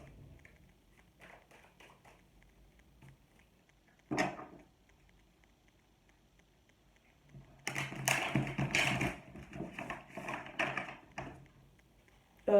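Tarot cards shuffled by hand, heard as soft papery riffles and taps: a brief burst partway through, then a denser run of crisp card flutters toward the end, close and moderately loud with no talking.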